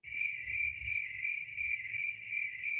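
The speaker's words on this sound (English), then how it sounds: "you're going to hear crickets" Crickets chirp loudly and continuously in a steady, pulsing rhythm, a dense insect chorus with no voices.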